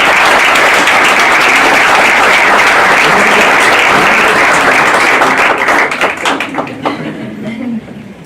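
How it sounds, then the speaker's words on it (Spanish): Loud, dense audience applause fills the room at a ceremony, steady and close, then thins into scattered claps and fades out near the end. "Un aplauso, por favor."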